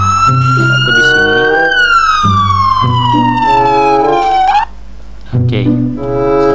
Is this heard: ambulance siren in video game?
yes